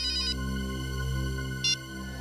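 A mobile phone rings in a tense crime-drama bank robbery scene: two short bursts of bright trilling tone, one at the start and one later, over a steady bed of background music.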